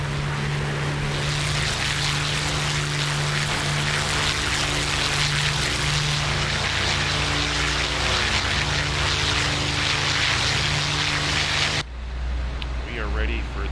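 Twin Rolls-Royce Merlin engines of a de Havilland Mosquito climbing in a flight-sim game, a loud, steady droning roar with strong low harmonics throughout, dropping abruptly near the end into a quieter cockpit hum.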